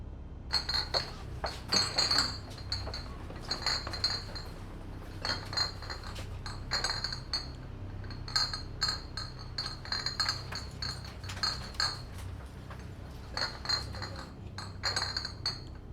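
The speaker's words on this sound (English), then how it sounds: "That glass loading in the background sounds crazy." Glass bottles clink and chink repeatedly in bursts as cargo is loaded in Microsoft Flight Simulator, bright ringing clatter over a low steady aircraft hum, no talking.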